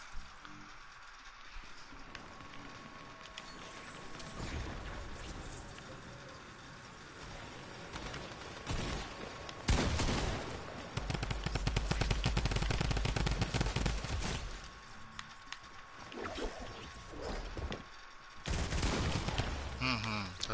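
Rapid gunfire bursts from the Fortnite video game, some loud and sustained, others brief, mixed with game effects and a player talking over the action.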